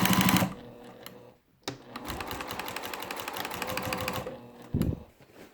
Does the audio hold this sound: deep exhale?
no